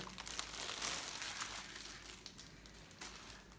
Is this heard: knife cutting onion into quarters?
no